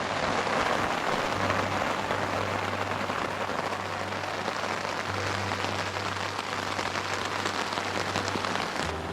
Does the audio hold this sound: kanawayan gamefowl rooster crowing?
no